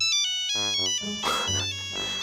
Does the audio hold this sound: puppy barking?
no